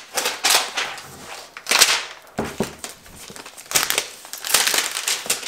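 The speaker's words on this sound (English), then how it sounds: "So let's take this packaging off." Packaging comes off a Microsoft Surface Book 2 13-inch laptop in bursts of close crinkling, tearing and rustling, with short quiet gaps between the handling noises.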